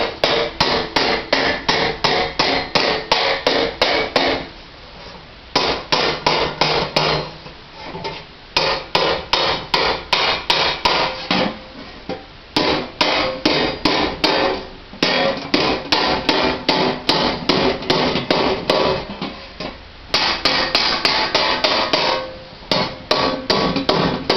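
Repeated hammer blows on a sheet metal panel worked over an anvil for rust repair on a 1986 Jeep, loud and close, coming in steady rapid bursts separated by short pauses.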